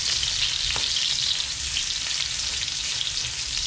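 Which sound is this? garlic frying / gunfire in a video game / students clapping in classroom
garlic frying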